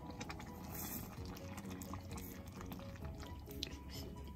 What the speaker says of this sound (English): we're adding a little bit more water